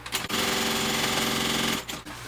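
A sewing machine runs in a fast, steady burst, stitching a backpack pocket closed with a rapid mechanical chatter of about a second and a half, framed by brief handling clicks before and after.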